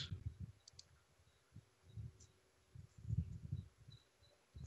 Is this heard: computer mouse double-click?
yes